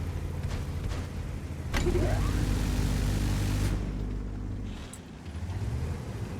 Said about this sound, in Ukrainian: Такі звуки цікаві від цих танків.